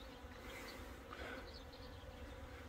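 A swarm of bees buzzing in a steady, faint drone outdoors after the insects got inside someone's clothing, a continuous hum with a few individual bees passing close.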